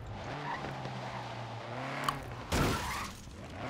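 A car in Forza Horizon 3 driving through Australia, engine humming steadily before tires squeal in a short skid, then a sudden loud crash-like burst, with no talking.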